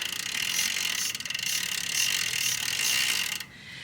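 A bicycle drivetrain freewheel ratcheting as the pedals are turned backwards while the jockey wheels are sprayed, a fast steady clicking buzz, close and loud, stopping abruptly near the end.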